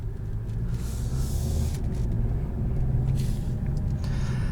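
A 2021 Kia K5 EX with its 1.6-liter turbo engine is driven in sport mode, heard from inside as a steady low road and engine rumble with a constant hiss of wind and tire noise, no talking.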